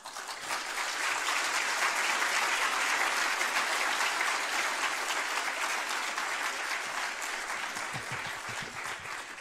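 Sustained audience applause after a keynote at a symposium, dense and loud clapping from a large crowd that holds steady for several seconds before thinning slightly at the end.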